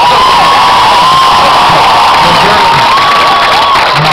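Crowd cheering and shouting with whoops at the JCDC National Music Finals 2013 as the overall award goes to St. Andrew High School, a loud, continuous roar of many voices with scattered clapping throughout.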